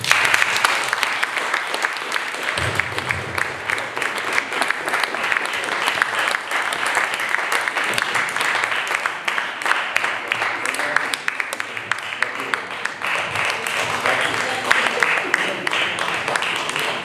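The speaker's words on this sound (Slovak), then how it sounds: "Ešte raz potleskom poprosím." A concert audience at a jazz show applauds steadily and loudly throughout, a thick continuous wash of clapping with occasional louder hand claps near the front.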